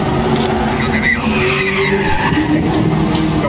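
Cars skid in a parking lot in the video game Medal of Honor Warfighter, a loud continuous tire squeal over revving engines that fills the whole stretch.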